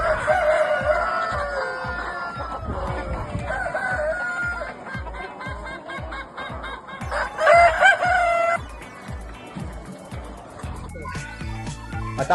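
A rooster crows repeatedly amid clucking hens in a busy flock of chickens, loud and close, with a steady low thumping rhythm underneath throughout.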